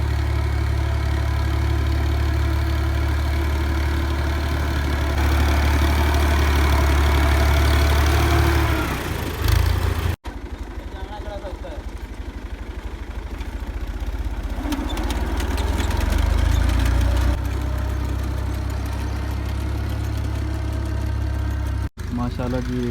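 A tractor engine runs steadily through a maize sowing job in a farm field, a loud continuous low drone that dips briefly midway and then carries on under occasional talk.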